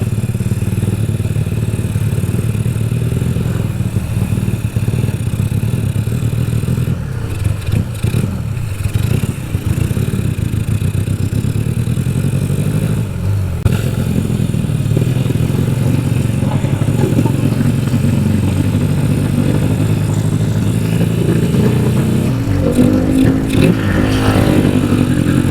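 A two-cylinder Yamaha Vega R 200 cc motorcycle underway, its engine droning and rising and falling with throttle changes amid some clatter and wind, with no speech.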